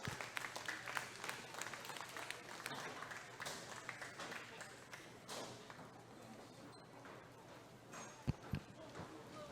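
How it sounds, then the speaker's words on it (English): Faint, steady applause from the crowd at a junior fair steer show, honoring the exhibitors, a dense patter of many hands heard from a distance, with a few louder thumps near the end. "Let's give these exhibitors one big round of applause."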